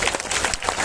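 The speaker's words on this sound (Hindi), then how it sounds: "ताली बजाइए," An audience applauds with steady, dense clapping throughout at a poetry recital held at a college in Sitamarhi.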